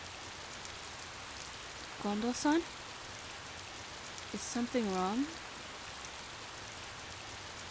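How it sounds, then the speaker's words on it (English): Steady rain falls throughout a scene in the video game Hakuoki, a soft, constant hiss beneath the dialogue as someone speaks two short lines in Japanese over it. "It began to rain harder"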